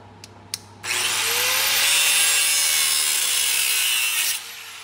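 Power cutting through seized, bound-up parts while dropping the axle on a truck lift-kit install in a garage; a couple of short taps, then one steady, loud cut lasting several seconds before it stops.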